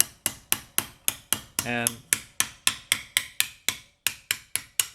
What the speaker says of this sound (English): hammer it on its side, bringing both of the edges in evenly